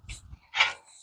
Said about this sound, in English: Excuse my little dog. He thinks he should eat every time we eat.